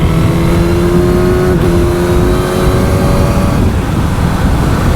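Suzuki GSX-S1000 motorcycle on its stock exhaust, a loud, close engine holding a steady droning note with a slight pitch shift partway through, continuous for the full five seconds with no voices.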